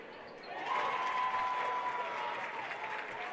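A crowd at a girls high school basketball regional game claps and cheers in a gym, a steady wash of applause rising after a quiet start, with a long whistle tone and an announcer's voice partly over it.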